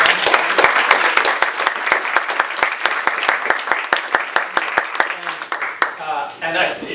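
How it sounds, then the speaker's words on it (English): An audience at a business ethics conference's closing session claps steadily and densely for the speakers, loud and close, before the clapping thins and fades near the end. "So first, just a round of applause for all the speakers."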